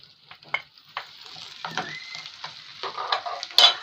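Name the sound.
carrots sautéing with garlic and onion for lentil soup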